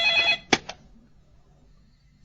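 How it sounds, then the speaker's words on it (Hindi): A telephone rings in a Hindi-dubbed movie scene: a short, loud electronic ring is followed by two sharp clicks, like a receiver being picked up, and then near quiet. "मैं फोन उठाकर देखूं, हो सकता है ये चार्ली हो।"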